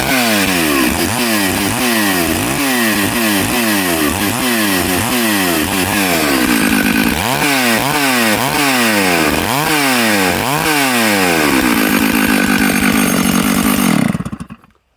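A rebuilt Stihl 064 professional chainsaw roars close and loud, revved repeatedly in rhythmic surges, then held at a sustained high scream before cutting out at the end.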